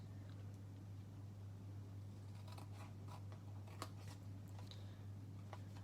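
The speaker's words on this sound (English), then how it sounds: "I'm going to take the scissors and I'm just going to cut up to each of those first score lines." Scissors cutting up to the score lines of a scored paper card, a series of faint close snips and crisp clicks over a steady low hum, no talk.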